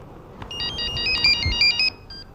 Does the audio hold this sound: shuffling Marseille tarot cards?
no